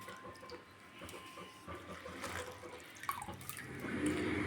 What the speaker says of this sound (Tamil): ஒரு 3/4 கிளாஸ் தண்ணி, ஒரு 150 ml தண்ணி ஊற்றுங்க